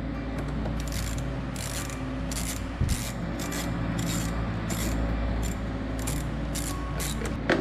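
A ratchet loosens bolts on the intake of a 2015-or-later Mustang 5.0, with a regular run of short, crisp ratcheting bursts over a constant background hum, close up and with no talking.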